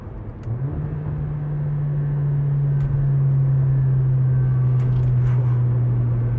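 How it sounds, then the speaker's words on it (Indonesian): A Mercedes CLA 45 AMG engine drones loud and close, a sustained low hum that builds, holds and dips slightly once with a downshift, with faint clicks on top. "dengerin bunyinya pas pindah gigi ya"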